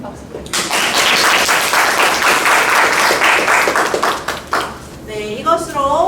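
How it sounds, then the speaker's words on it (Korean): A live audience at a middle-school debate contest final claps in loud, dense applause for several seconds, tapering off as a voice begins speaking over the fading claps. "선생님에게도 더 큰 박수 부탁드립니다"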